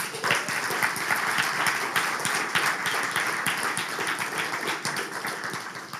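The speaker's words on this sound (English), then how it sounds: "Please, round of applause for this." Applause from an audience at a climate hackathon awards ceremony in Bratislava, many hands clapping in a steady, fairly distant wash that carries on for several seconds before easing slightly toward the end.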